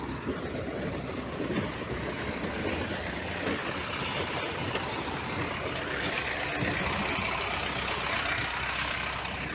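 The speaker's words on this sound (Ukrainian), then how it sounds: "Ось як працює комбайн." A large farm engine drones steadily with broad mechanical rumble and clatter, continuous and fairly close, with no voices.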